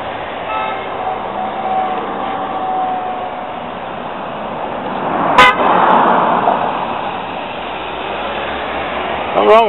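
Car horn honking outdoors on a street, a short blare in the middle over steady traffic hiss and faint background hum, with a brief second toot at the very end.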